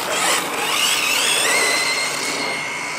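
Brushless 1/10 scale RC buggy driving up and down a BMX bike track, its motor giving a steady high whine that rises and falls in pitch over loud continuous noise.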